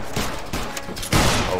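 A volley of musket fire from a line of infantry in the Battle Grounds III game, a rolling crackle of near-simultaneous shots followed by a louder burst near the end, dense and close.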